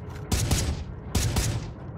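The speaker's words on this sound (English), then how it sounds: "he's in the sky shooting at us" Two quick bursts of gunfire come from a PvP fight in the space video game Starbase. Each bursts loud and then fades, spaced under a second apart, with no voices over them.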